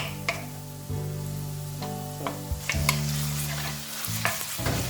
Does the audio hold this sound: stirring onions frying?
yes